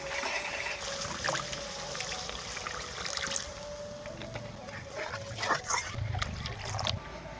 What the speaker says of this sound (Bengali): এবার এখানে জল দিয়ে দেবো